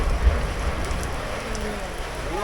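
Steady rain falls and patters on surfaces with a continuous hiss, a few faint low thumps near the start, no voices.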